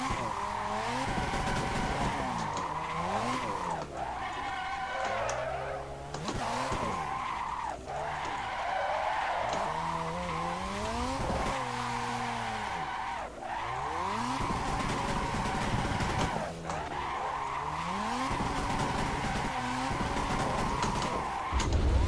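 A car drifting at full throttle in the Assetto Corsa sim, turbo engine droning and rising through the gears while tires squeal almost continuously, with brief dips at shifts and a loud steady mix throughout.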